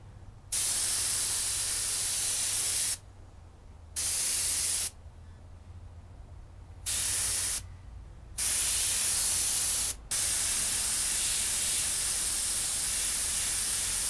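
An airbrush sprays paint onto a picture in several close, loud bursts of hiss, switching on and off with short silent gaps between, no voices.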